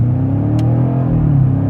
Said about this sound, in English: off the line, about half throttle